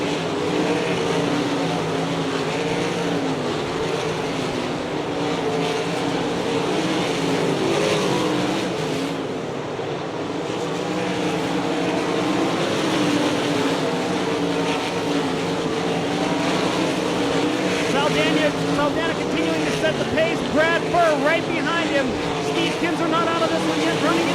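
World of Outlaws sprint cars racing on the speedway at Hartford, Ohio, engines droning and roaring continuously as the pack laps, rising and falling in pitch, with a commentator's voice over the noise.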